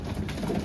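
Racing pigeons in a loft give a low, throaty coo, close and continuous over a brief moment.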